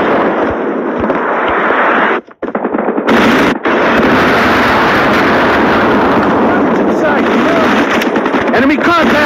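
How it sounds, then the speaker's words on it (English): Predator missile strike in mobile Call of Duty, a loud sustained roar of explosion and gunfire that fills the scene, broken by a short drop near two seconds before the blast noise surges back and continues. "Friendly Predator missile inbound."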